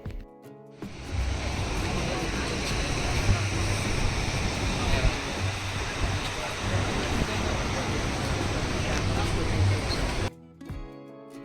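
Surf rolling onto a North Goa beach fills the air with a steady, loud wash of breaking waves and wind buffeting the microphone, continuous for about ten seconds before dropping away.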